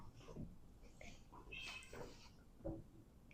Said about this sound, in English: The cat is screaming at us